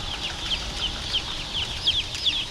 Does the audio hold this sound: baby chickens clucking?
yes